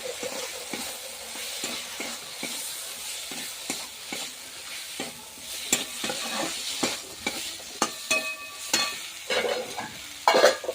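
Fish heads frying in spiced oil with steady stirring: a continuous sizzle broken by repeated scraping and clinking strokes of a spatula against the pan, close and fairly loud, with no voices.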